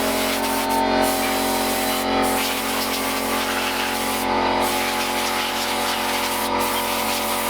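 Compressed air hisses in a steady, continuous blast near a fuel injector during a supercharger installation, loud and close with no pauses.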